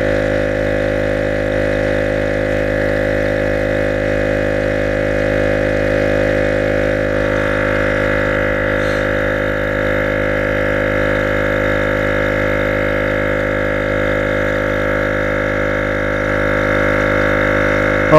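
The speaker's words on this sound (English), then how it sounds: "it's just this very small piston going back and forth to create the air" An EP AUTO portable tire air pump runs steadily as its small piston works back and forth, a close, even mechanical drone with a constant buzzing hum that holds unchanged throughout.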